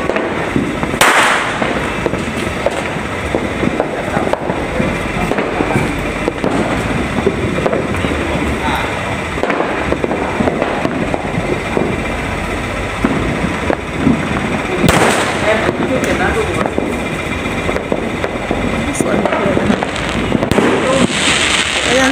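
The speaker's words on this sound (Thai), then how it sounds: "ซื้อประทัดมาเล่นกันนะคะตอนนี" Firecrackers and fireworks go off without pause at a New Year 2024 countdown in Nakhon Pathom, a dense and loud crackle of overlapping bangs with heavier bursts now and then, and someone talks over it.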